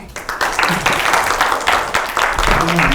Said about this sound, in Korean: 그러면 교수님을 큰 박수로 모시겠습니다